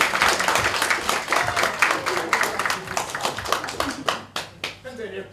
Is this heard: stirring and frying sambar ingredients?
no